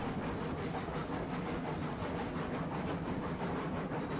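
Cooke Mogul steam locomotive hauling a 16-car train in the Railroads Online game, heard as a steady, continuous rolling rumble of wheels and cars throughout, with no talking.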